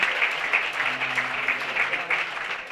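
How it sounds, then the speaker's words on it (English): A round of applause from the audience at the 2018 VOWOC Trailblazers awards ceremony: continuous, even clapping for nearly three seconds, with a faint voice underneath. "So give one more round of applause to Auntie Maxine"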